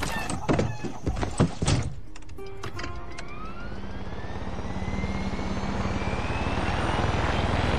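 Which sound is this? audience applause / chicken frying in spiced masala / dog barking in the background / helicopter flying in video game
helicopter flying in video game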